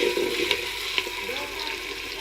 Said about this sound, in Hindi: थोड़ा सा प्याज फ्राई हो गया